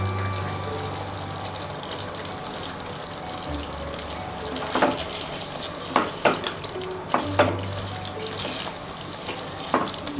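A pot of gravy with chhana koftas and raisins being added, a steady watery bubbling and hiss with a few sharp clinks and knocks of utensils against the vessel, close and fairly loud.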